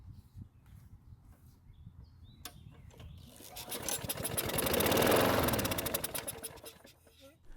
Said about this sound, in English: see if the engine will start and run after putting some fuel into the carb's throat.